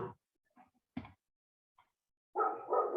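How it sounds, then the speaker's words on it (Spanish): Several household dogs bark in sharp separate yaps, one sudden loud bark, then a burst of overlapping barking near the end, with quiet gaps between. "Ay, perdón por mis perros"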